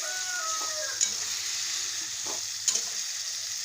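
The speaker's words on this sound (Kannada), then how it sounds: "ಎಣ್ಣೆ ಒಳಗೆ 2 ಸೇರಿ ಫ್ರೈ ಮಾಡ್ಕೋಬೋದು ಅಂತ ತಿಳ್ಕೊಂಡು 2 ಸೇರಿ ಒಮ್ಮೆ ಹಾಕ್ತೀನಿ" Tomato and chili fry together in hot oil, giving a soft, continuous sizzle with a couple of brief clinks from a utensil against the pan, close by and moderately quiet.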